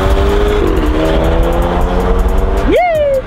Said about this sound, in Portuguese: Ele tá com um barulhinho diferente no carro dele, tu viu?